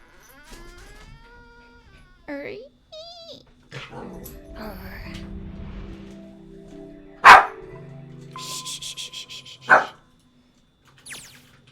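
Dog barks and yelps in a Morse-code-like pattern in the 9 Hours, 9 Persons, 9 Doors visual novel: scattered short calls, then two sharp loud barks about two seconds apart, with softer murmuring sounds between.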